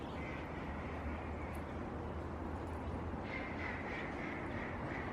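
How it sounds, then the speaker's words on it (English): Ducks quack faintly in the distance outdoors, a repeated nasal calling sitting under a steady broadband outdoor noise wash, with no voices on top. "Yep, you can hear my ducks in the background."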